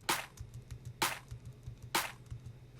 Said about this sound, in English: here is the unprocessed, uneq'd clap.